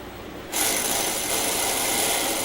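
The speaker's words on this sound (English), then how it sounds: "Place the primary bevel as accurately as possible on the edge of the diamond disc." An orthodontic instrument's bevel pressed against a rotating diamond disc, a steady high gritty grinding that starts abruptly after half a second and holds evenly to the end.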